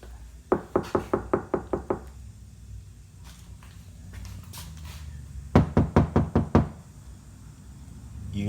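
Knuckles rap on a car door panel lined with KilMat sound deadener: a quick run of about eight dull, even knocks, a pause with a few scattered taps, then another burst of six.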